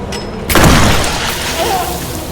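A shotgun fired in the survival horror game Tormented Souls, one loud booming blast with a long ringing tail, over a low ambient game drone.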